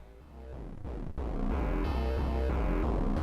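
Plucky synth bass line from a Bastl Kastle, driven by an audio-rate LFO from the oscillator output, loops steadily alongside a drum beat, loud and continuous with no talking.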